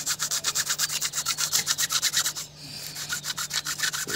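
Someone gently rubs an old stain with Clorez cleaner, producing a fast, steady back-and-forth scrubbing rhythm of about six strokes per second, close and fairly quiet, with a brief pause midway and a faint low hum beneath.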